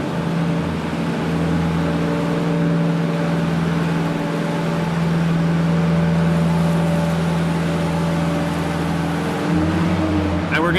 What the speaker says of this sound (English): So we're going to start the engine back up.